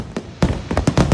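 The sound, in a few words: fireworks show at a resort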